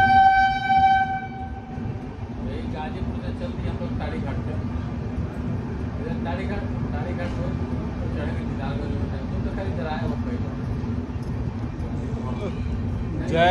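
A passenger train on the new Ghazipur City–Tari Ghat rail line in India rumbles steadily along the tracks with a deep, continuous low drone; a brief horn-like tone sounds at the start, and voices murmur underneath.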